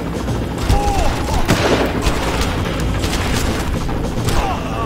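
Gunfire from the video game Far Cry rattles through a dense, loud wash of game noise, with booming shots blending into continuous rumbling action.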